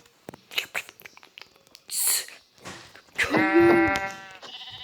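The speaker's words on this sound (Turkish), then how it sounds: "Koyun." Minecraft sheep bleat several times in short, wavering cries, the last one long and loud, with soft clicks and rustles between them.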